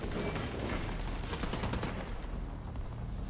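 Dense, continuous automatic gunfire in a military shooter set in Washington, loud and close, with steady rattling bursts layered over a noisy battlefield and no pauses.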